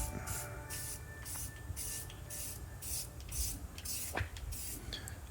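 Repeated short bursts of hissing from a spray paint can painting car wheels, each lasting about half a second, in a quick steady rhythm, close and fairly loud.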